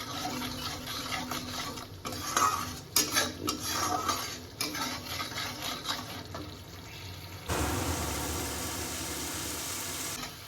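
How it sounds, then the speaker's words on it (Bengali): Spice paste with salt and turmeric is stir-fried in a pan for a fish curry, with metal spatula scrapes and clinks at close range, followed near the end by a steady, louder sizzle. "এবার এই মশলাটাকে ভালো করে আমি কষিয়ে নেব।"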